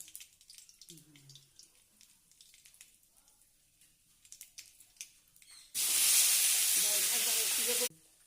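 Tomato added to a hot pan of oil with dried red chillies for chutney bursts into a loud, sudden hissing sizzle lasting about two seconds, after a stretch of faint clinks and kitchen noise.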